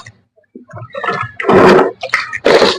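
Water splashing and running over a stand fan grille as it is washed by hand, in short uneven gushes that start faintly and build into louder bursts of spray and pouring.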